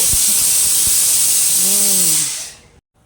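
Pressure cooker on a gas stove venting steam, a loud continuous hiss that holds for over two seconds before cutting off abruptly, with a brief tonal whine and a few faint knocks underneath.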